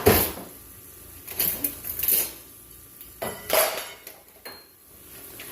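A spatula clanks and scrapes in a pan while flipping sauteing egg roll filling, in several irregular bursts of metallic knocks over a steady background hiss.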